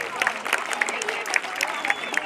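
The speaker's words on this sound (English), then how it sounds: "So give us a clap for the weather gods." Scattered crowd clapping outdoors at a community fun run and wellness fair, light and uneven, with voices and chatter running over the claps.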